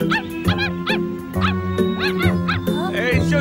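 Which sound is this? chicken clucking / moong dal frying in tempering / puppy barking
puppy barking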